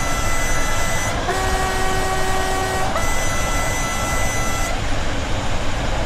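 Train horn in Train Sim World 2 sounding two sustained tonal blasts with a brief break between, loud over a steady rumbling engine and rail noise.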